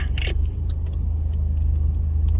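A heavy truck passes on an Indonesian road, heard from inside a moving car as a loud, steady low rumble of engine and road noise that fills the whole clip.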